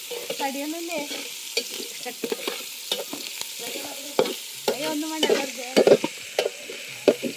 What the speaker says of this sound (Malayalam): എല്ലാം ഇളക്കി കൊടുക്കുക